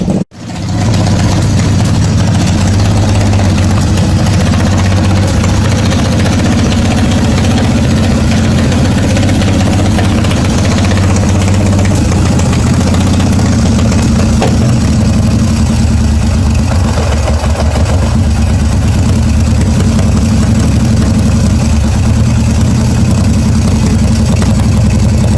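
A 1981 Yamaha XS850 Special motorcycle engine idles steadily outdoors in the cold, a loud, close, continuous low rumble holding an even pace throughout.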